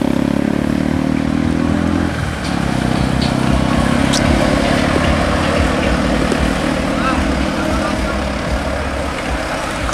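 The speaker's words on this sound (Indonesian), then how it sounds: "Kereta wisata." An odong-odong tourist train, a decorated passenger vehicle carrying villagers, rumbles past with a steady loud engine drone and clatter throughout, with a brief dip in engine tone around two seconds.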